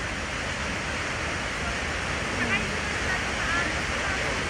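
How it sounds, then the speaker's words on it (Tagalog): Brandywine Falls waterfall, a constant broadband rushing roar of falling water, steady and unbroken throughout. "Ayan na, guys, yung falls."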